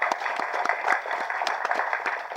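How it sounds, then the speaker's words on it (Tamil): An audience at the Silambam movie audio launch breaks into applause, a dense, steady patter of many hands clapping that carries on throughout without a break. "ஒரு கைத்தட்டல் கொடுக்கலாமே."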